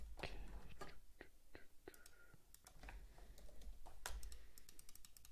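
Fast, uneven bursts of clicks from a computer keyboard as someone types on a Mac while coding, fairly close but soft, with faint breathy murmuring underneath.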